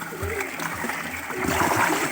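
Water from a village well splashes and gurgles into a container nearby while a person talks over it.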